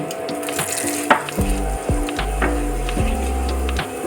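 Asafoetida and cumin seeds hit hot oil for a spiced potato filling for mini khasta kachori, giving a steady close crackling sizzle that runs through with a few sharper pops and a low hum underneath.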